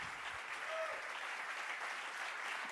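Audience at the Spiel des Jahres 2025 award ceremony applauding, a sustained even clapping from a large hall crowd with no voices on top.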